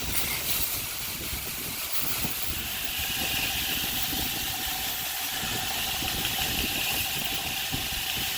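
A grinder works a chain Damascus seax knife blade during its final grind, a loud, steady, close-up roar with a hissing edge that holds constant throughout.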